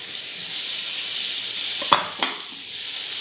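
Green beans and chopped almonds sizzle steadily in a hot frying pan, a constant close hiss broken by two quick scraping stirs partway through.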